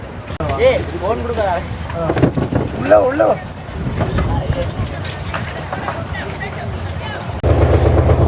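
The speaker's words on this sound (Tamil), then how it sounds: "ஓகே, இப்போ லோஞ்சி எடுத்துட்டினோம். நாங்கள் இதில் வந்துட்டு ஒரு அரை மணி நேரத்தில் அங்கால போய் சேரலாம்." A motor launch sets off across the sea from Jaffna toward Eluvaitivu island, its low engine drone and wind rumble running under nearby talk, growing louder and steadier near the end.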